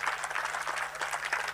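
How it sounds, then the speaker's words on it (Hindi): Applause from the audience at a Devi Bhagwat Katha religious discourse, a steady soft patter of clapping heard at a distance for a brief moment. "जब बिल्कुल तालियों से स्वागत करिए महाराज"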